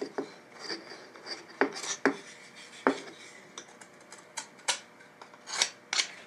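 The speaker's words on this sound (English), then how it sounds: "I'm going to use my razor knife to remove any of the little excess burrs here of the MDF" A razor knife scrapes and nicks burrs off the edge of MDF, a series of short, sharp scratchy strokes spaced irregularly with quiet pauses between, close up and alone.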